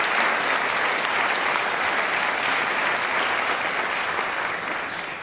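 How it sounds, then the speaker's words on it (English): Audience at a city State of the City address breaks into steady, dense applause, loud and sustained, fading slightly at the end with no speech over it. "Let's give them a round of applause."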